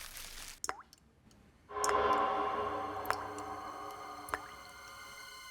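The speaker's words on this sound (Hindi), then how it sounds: "नहीं, शायद कुछ टपकने की आवाज आ रही" Water drips indoors in a few distinct, sharp plinks spaced a second or so apart, faint and close, over a quiet room tone that swells into a low hiss partway through.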